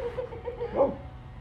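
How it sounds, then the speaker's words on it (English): A dog gives a single short bark on command, fairly close, over a steady low background hum. "Here, you guys want to hear him bark too?"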